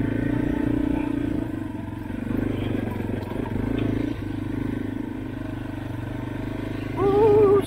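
Off-road vehicle grinding along a rough Green Mountain trail, a continuous engine drone with clattering and bumping, the engine note rising near the end.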